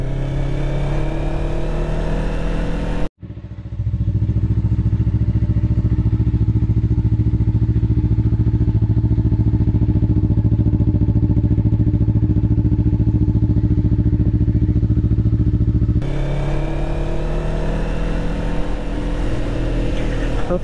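2020 Yamaha MT-03 motorcycle exhaust while riding, a steady low engine drone that runs continuously through the ride, with a brief dropout near the start and a rougher, wind-buffeted tone at the beginning and end.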